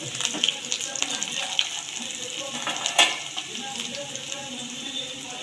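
Cumin, carom seeds, green chillies and turmeric sizzle in hot oil in a pan while aloo paratha filling is being cooked, giving a steady close frying hiss with a few brief clinks.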